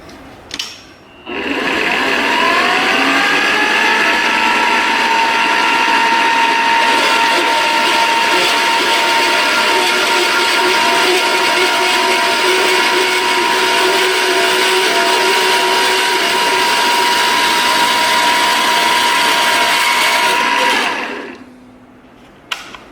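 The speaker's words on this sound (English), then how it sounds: "There you go, 1 inch cut off of there." Power cutting tool slicing an inch off a chrome turn signal stalk, a loud, steady high whine that runs unbroken for about twenty seconds before spinning down.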